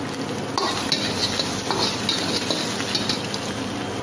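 Chicken fried with egg in a pan for chicken fried rice, a dense continuous sizzle with light clinks and stirring scrapes from a utensil, close and steady, no speech.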